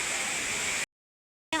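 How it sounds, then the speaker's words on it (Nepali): A small waterfall at a swimming spot on a family outing rushes as a steady hiss of falling water, cut off by a sudden silence and then returning briefly. "यहाँ पनि एउटा सर झरना जस्तो छ पौडी खेल्ने ठाउँ छ"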